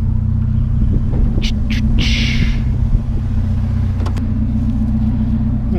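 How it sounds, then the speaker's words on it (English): A heavy garbage truck engine rumbles steadily nearby, a low continuous drone with a few brief hisses of air brakes partway through. "We hear the garbage man."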